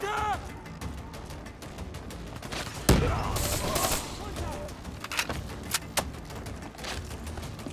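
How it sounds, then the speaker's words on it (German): Rapid gunfire from a three-round burst weapon in Call of Duty: Black Ops 3, with sharp shots cracking out at intervals over constant battlefield noise and a talking voice. "Die Waffe ist ganz lustig mit diesem Dreierburst."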